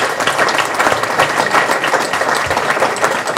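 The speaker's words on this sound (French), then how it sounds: "Vous pouvez les applaudir très très fort" A public meeting audience gives loud, sustained applause, dense steady clapping filling the whole stretch without a break.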